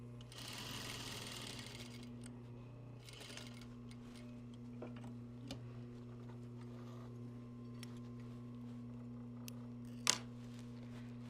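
A sewing machine stitching a seam through fabric runs with a steady low motor hum and fine rapid needle ticking, starting with a louder burst, then continuing quietly, with a few sharp clicks and one loud snap near the end.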